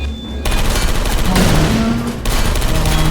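Rapid turret gunfire in the game Portal Stories: Mel, a loud continuous rattling burst running for about three seconds with brief shifts in intensity and faint tonal electronic whines underneath.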